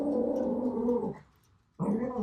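Lexi the dog growls in a low, sustained rumble close by, pauses briefly, then starts growling again.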